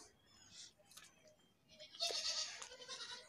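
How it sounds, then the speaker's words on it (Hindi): A goat at a village home gives a short, breathy bleat, followed by a louder, rougher burst of bleating, faint and close against a quiet background. "बकरी"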